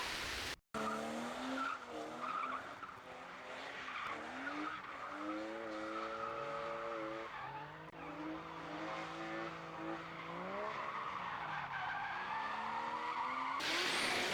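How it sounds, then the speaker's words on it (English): A grassroots drift car slides around a track, its engine note rising and falling in long sweeping pitches with continuous tire squeal and skidding, loud and close throughout with no talking. "And again here we've got Will, who has been drifting for years"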